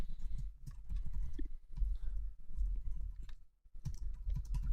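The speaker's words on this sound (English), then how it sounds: "I see you typing it." Computer keyboard typing, a steady run of close, soft key clicks with brief pauses, alone with no voices.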